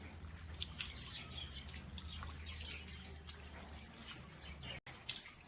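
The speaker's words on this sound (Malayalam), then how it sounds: "കുറച്ചും കൂടെ വെള്ളം ഒഴിക്കണം." Water poured over a dog during a bath trickles and splashes faintly in uneven little bursts, with soft dripping between the pours.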